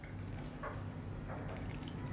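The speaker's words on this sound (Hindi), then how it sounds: "हम अब इसमें पानी डालेंगे और इसका एक बैटर बनाएंगे" Water trickles and splashes as it is poured into idli batter made with poha, a soft continuous pour with small drips, close and fairly quiet.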